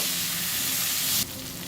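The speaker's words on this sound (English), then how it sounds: "I'm now adding the potatoes into the oil and stir frying them." Potatoes stir-fry in hot oil in a frying pan over a medium flame, giving a loud, steady, close sizzle that drops sharply to a softer hiss near the end.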